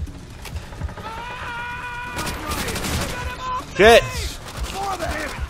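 Bursts of gunfire in Call of Duty: World at War crackle over a busy battlefield mix with whistling effects and a sharp impact, while a man swears briefly.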